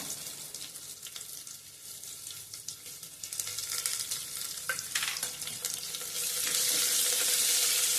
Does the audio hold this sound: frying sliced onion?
yes